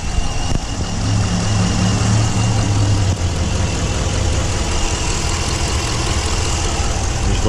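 A 2021 Dodge Durango R/T's 5.7-liter Hemi V8 idles steadily up close under the open hood, a loud, constant low rumble with no break.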